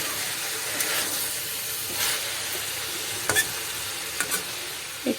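Chopped tomato mixture frying in a pan gives a steady, close hiss and sizzle, broken by a few brief scraping stirs of a spoon toward the end.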